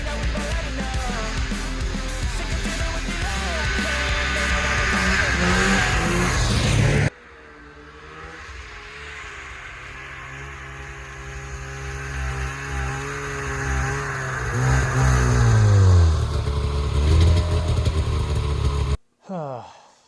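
A cheap Polaris Indy snowmobile engine runs during a ride, loud and close, its pitch rising and falling as the throttle changes, with a break partway through and a final abrupt cutoff.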